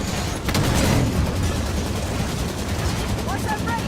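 Heavy gunfire and explosions during combat in Halo 5 Guardians, with dense rattling bursts and booms under loud voices and battlefield noise throughout.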